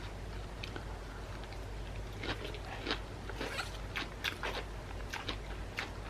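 Someone chews crunchy vegetables in a salad up close, giving a steady series of crisp bites and crunches with no talking.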